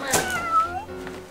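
A cat lets out a single drawn-out meow near a hamster cage, clear and fairly close, with no speech over it.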